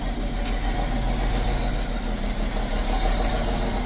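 A CNG tractor truck's diesel-style engine rumbles steadily and loudly up close as it drives onto a trailer, a constant low drone with no talk.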